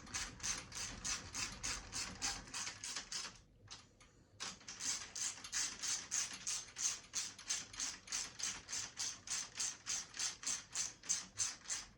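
A hand ratchet snugs bolts onto a plastic part with steady, fast, close clicking. After a brief pause near the start, the rhythmic pawl ticks resume and continue evenly to the end.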